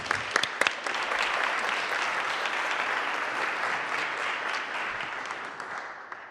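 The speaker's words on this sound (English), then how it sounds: "Big round of applause." A room of people claps for a presenter at a motorcycle meetup, a few sharp claps at the start swelling into dense, sustained applause that holds steady and fades slightly near the end.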